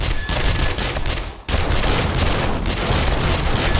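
Turrets fire nonstop at a zombie horde in 7 Days To Die, with dense, loud rapid gunfire bursts that briefly drop out near the midpoint before resuming just as heavy.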